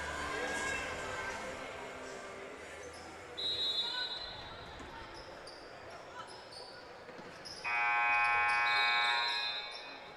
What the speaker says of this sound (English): And we had a sound of a buzzer.